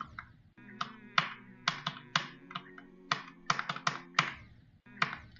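Crisp mouse clicks during video game play, a dozen or so sharp taps in quick irregular bursts and pairs, close and distinct over a steady humming game-music drone.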